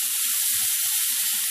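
Steak sizzling in a pan, a steady close hiss of frying with small pops and crackles throughout.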